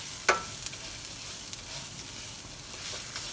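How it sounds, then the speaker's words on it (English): Onion and garlic sauteing in a pan, a soft even sizzle with a couple of brief clicks and pops, fairly close and moderate in level. "Let some of that onion and garlic saute down"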